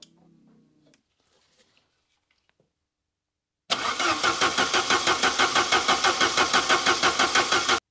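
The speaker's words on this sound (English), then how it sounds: "I'm just going to crank it a bit more to build up the pressure." A Saab 900 Turbo engine cranks on the starter after near silence, a steady rhythmic whirring churn of even pulses that runs for about four seconds without catching.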